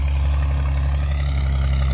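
Farm tractor engine running steadily while driving around in circles, a loud, continuous low drone close by with no break.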